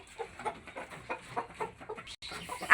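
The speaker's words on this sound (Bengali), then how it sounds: "এই যে দেখেন মুরগিগুলো সেই পাজি আর কি" Hens on a household poultry yard cluck in a steady rhythmic series at close range, with a sharp loud burst at the very end.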